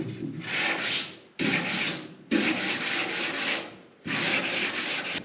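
Body putty being sanded by hand in a car's engine compartment: four close, loud bursts of rasping strokes separated by short pauses, with no talking.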